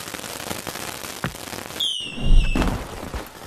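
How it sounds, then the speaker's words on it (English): Fireworks set off in the Battle Talent VR game during its Year of the Dragon update: a rising whistle leads into a loud crackling burst of pops and thuds, with no talking. "We have got ourselves some really cool fireworks that we can go and activate here."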